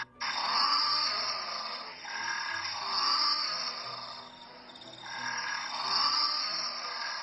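A blue penguin, also called a fairy penguin, gives a harsh, braying call in a long continuous stretch of rising and falling pulses, loud and close, with no talk over it.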